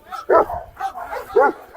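A large Cane Corso dog barks twice in deep, loud woofs close by, with softer growling and whining between the barks.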